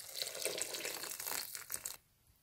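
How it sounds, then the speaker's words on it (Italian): Water poured into a Thermomix cooker while making ham-and-pea meatballs: a continuous splashing, hissing stream for about two seconds, then stopping abruptly and leaving faint quiet. "Aggiungiamo l'acqua."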